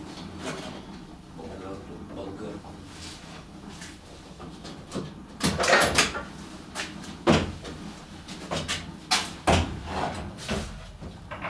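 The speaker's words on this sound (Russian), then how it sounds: "Попробуем одеть двери." Car doors are fitted onto a car body shell during body geometry repair work, with several hollow metallic knocks and clunks coming at irregular intervals over background talk.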